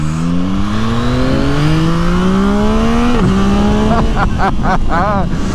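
A 2024 Yamaha MT-09 SP motorcycle accelerates hard at full volume, its engine note climbing steadily through the gears with a quick dip at each shift and rapid blips near the end, someone talking over it.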